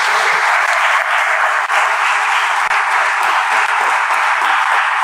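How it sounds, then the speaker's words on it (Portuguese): A church congregation applauds, a loud, steady wash of many hands clapping together that continues without a break. "Você pode aplaudir o Senhor?"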